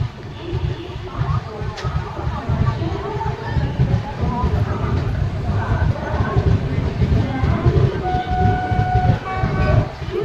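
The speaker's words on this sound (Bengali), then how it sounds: "ট্রেন প্যান্ডেল জাংশন এন্টার করছে" The Teesta Torsa Express rumbles loudly into a junction station, steady rolling noise with clanks and a brief horn-like tone, voices audible in the background.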